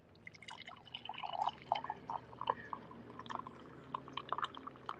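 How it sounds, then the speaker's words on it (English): Scalding hot coffee is poured into a cup, a faint, close, irregular liquid trickle with splashy drips and gurgles that runs for several seconds without talk. "I'm going to pour some scalding hot coffee."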